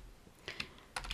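A few quick computer keyboard keystrokes, soft and close, clustered in two small bursts while entering code for a Leaflet map in R Shiny.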